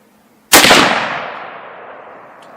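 A single sharp rifle shot from a Weatherby Vanguard cracks loudly outdoors, then its echo rolls away and fades over about two seconds.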